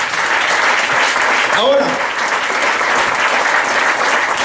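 A church congregation at a Spanish-language service gives the Lord a sustained round of applause, a dense even roar of clapping, and a voice briefly speaks over it.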